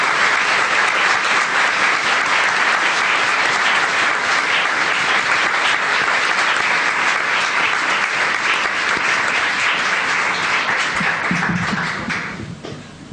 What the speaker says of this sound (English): I hope you could hear that rousing applause